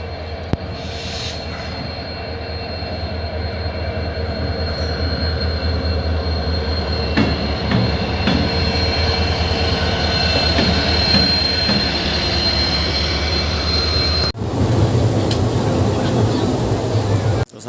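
Chetak Express passenger train with AC and general coaches rolling along the rails, a loud continuous rumble with wheel squeal, faint clickety-clack and a sudden shift in noise near the end, heard from inside.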